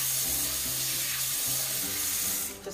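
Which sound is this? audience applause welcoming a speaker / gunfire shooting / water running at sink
water running at sink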